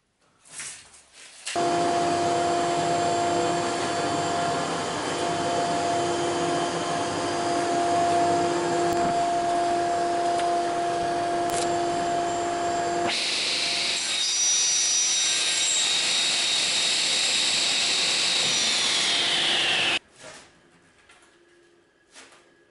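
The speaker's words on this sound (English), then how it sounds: "again cut it with 30 degrees bevel to close the corner" Power saw cutting a wooden plank at a 30-degree bevel, a steady high whine running unbroken for about eighteen seconds with a shift in tone partway through, then stopping abruptly; loud and close, no voices.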